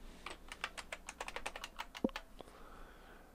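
A computer keyboard is tapped in a quick run of about fifteen light, close keystrokes, with one sharper click near the end and then quiet.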